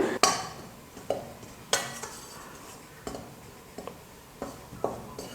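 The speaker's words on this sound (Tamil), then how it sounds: "ஒரு 5லேருந்து 6 நிமிஷத்துக்கு ஸ்டவ்வை மீடியம்லேருந்து லோ ஃப்ளேமுக்கு மாற்றி மாற்றி தீயை வந்து குறைச்சி ஏற்றி 5லேருந்து 6 நிமிஷத்துக்கு கடலை மாவை வறுத்துக்க போகிறேன்" Gram flour roasting in a pan over medium-low flame for ghee Mysore pak, with a spoon scraping and stirring in sharp periodic strokes over a faint background hiss, close and fairly quiet, no talking.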